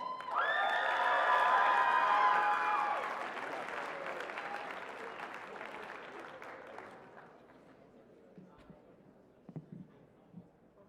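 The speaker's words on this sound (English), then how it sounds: "give them all a huge round of applause" Loud applause and cheering from an audience greeting performers, strong at first with music playing underneath, then fading into scattered claps and quieter room noise.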